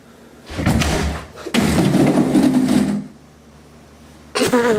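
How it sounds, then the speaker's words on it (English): Heavy doors slam shut in the horror video game Five Nights at Freddy's, two loud, booming thuds with metallic resonance separated by a short gap, then a third sharp bang at the end. "Then I slam the doors, because we don't want that yellow bird getting in."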